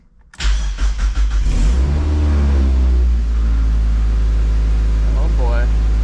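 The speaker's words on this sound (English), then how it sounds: "let's see if this thing will idle at lower than 1500 RPM at least" A high-compression Mazda Miata NB 1.8 with dual-tip exhaust and air intake cranks and catches, then revs up and settles into a steady, loud idle close by, with a voice talking over it.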